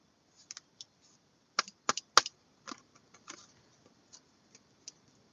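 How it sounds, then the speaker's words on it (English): A deck of cards being split and shuffled close by gives off scattered crisp clicks and snaps in irregular bursts, loudest in a quick cluster midway, with quiet gaps between and no talking. "y'all are watching me actively shuffle this deck"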